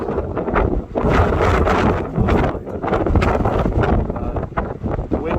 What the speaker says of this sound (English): the wind's gone absolutely belted across the water